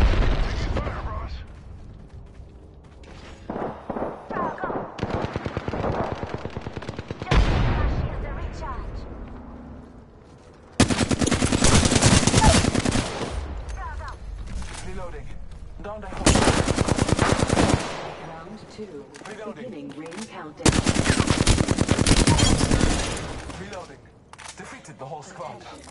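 Bursts of automatic gunfire in the video game Apex Legends, loud and close, coming in long sustained volleys separated by short pauses, with in-game voice lines and mechanical clicks in between.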